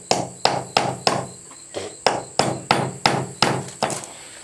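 A hammer drives nails into a wooden birdhouse with a steady run of about a dozen sharp, evenly spaced strikes, close and fairly loud, with no talking.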